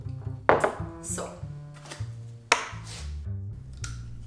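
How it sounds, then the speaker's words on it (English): Scissors snip through old paper rolls to shape seedling pots, giving a few sharp, close cuts and crisp paper rustles at an uneven rhythm on a tabletop. "I'm making pots for the seedlings by cutting and folding old paper rolls"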